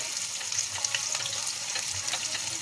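Patties and onions frying in a pan, heard as a brief, bright, hissing sizzle that stays steady and close with no speech.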